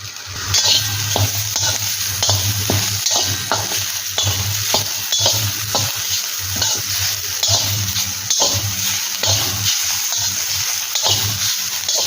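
Fried eggplant, crushed neem leaves and a green chili are tossed in a hot pan. Rhythmic, repeated stirring strokes scrape over a loud, continuous sizzle heard up close.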